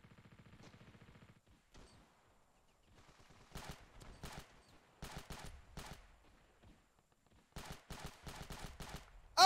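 DMR rifle fire in Ravenfield: sharp bursts of shots in short clusters separated by quiet gaps, fairly close and crisp, with a faint hum early on.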